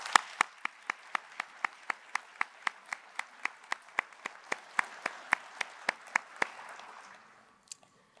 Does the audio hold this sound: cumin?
no